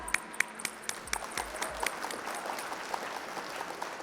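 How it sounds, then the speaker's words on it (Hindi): Spectators at the opening ceremony of the Khelo India Para Games 2025 clap to welcome a minister to the stage. A few sharp, separate claps swell into steady, moderately faint applause. "जोरदार तालियों के साथ उनका स्वागत किया जाए"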